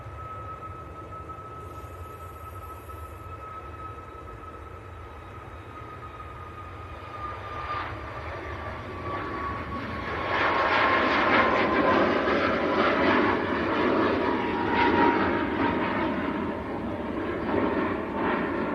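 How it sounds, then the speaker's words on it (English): Ryanair jet beginning its takeoff roll at Manchester Airport: a distant steady whine at first, then the engine roar swells and grows louder and rougher toward the end, heard alone. "I've got a Ryanair on the roll"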